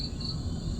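Cricket chirping with brief high-pitched trills over a low background hum, faint and close, the insect held as food for a pet coconut hummingbird.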